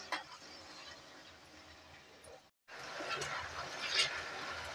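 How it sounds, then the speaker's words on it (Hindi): Potatoes for aloo gobhi frying in hot oil in a pan, a soft steady sizzle close by with occasional light scrapes and clinks from stirring, broken by one short silent gap. "ये आलू हमारे ब्राउन होने तक हमें इसे तलना है।"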